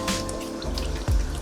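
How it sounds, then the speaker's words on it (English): Tap water runs and splashes as hands are washed at a kitchen sink while burgers cook, a steady close trickle with a heavier gush near the end. "just washing my hands."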